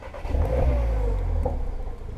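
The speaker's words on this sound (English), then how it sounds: "this is what the resonator delete sounds like on a cold start" A VW Polo GTI with a resonator delete rumbles on a cold start, a close, throaty engine note that swells in a brief rev and then settles back to a rough, loud idle.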